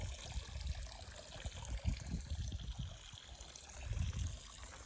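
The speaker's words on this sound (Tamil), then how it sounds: "இப்போ தோட்டத்துக்கு பார்த்திங்கன்னா தண்ணி பாஞ்சிட்ருக்கு." Irrigation water flows through a garden with teak and sweet lime trees, fed from a large well. A faint, uneven trickle and gurgle runs close by with soft splashy bursts and no voices.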